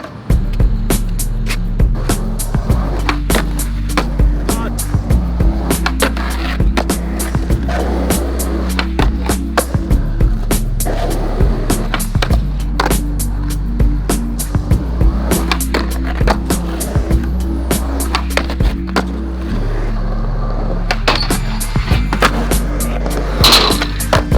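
Tricks on a Baker skateboard deck with a mellow concave bring a steady rolling rumble of wheels, broken by frequent sharp clacks and pops of the board hitting the ground, recorded close with no talking.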